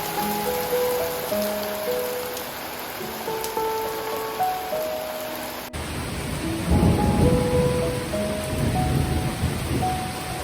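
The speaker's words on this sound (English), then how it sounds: "It is pouring with rain and I'm soaking wet." Heavy rain pours down with rumbles of thunder, a loud, steady wash of noise that grows stronger midway after soft musical tones, with no voices.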